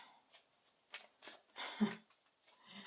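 A tarot card deck is shuffled by hand in a few short, quiet riffling bursts separated by pauses, close and soft.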